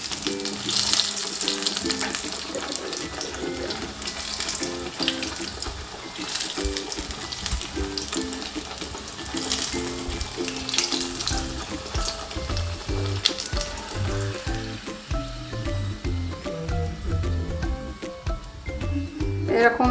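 Food fries in hot oil in a kadai, a wok-style pan, with a continuous crackling sizzle and occasional stirring, heard alongside soft background music.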